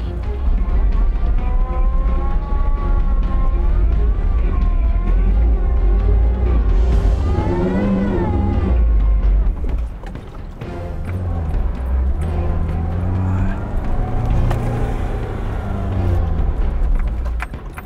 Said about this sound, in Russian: Давайте я сейчас целенаправленно уеду прям сильно далеко назад, возьму хороший разгон, чтобы эта машина смогла все-таки уже заехать.